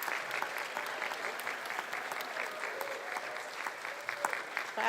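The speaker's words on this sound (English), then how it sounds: "Let's give them a wonderful round of applause" A church congregation applauds children crossing a bridge during a service, a steady, dense wash of clapping that fills the space for the whole stretch, with a voice faintly audible beneath it.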